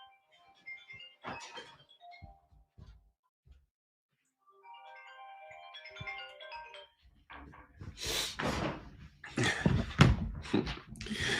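A phone ringtone plays a short tonal melody in bursts before a man silences it and resumes talking loudly over the end.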